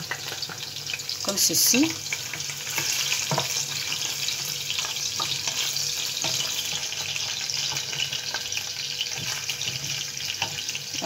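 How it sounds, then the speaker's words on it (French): Steady sizzling of onions and garlic frying in a saucepan for a yam stew, with a brief clatter early on and a short spoken remark. "l'oignon et l'ail, j'ajoute dans ma casserole"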